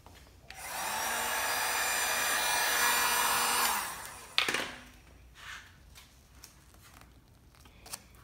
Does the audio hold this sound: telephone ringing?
no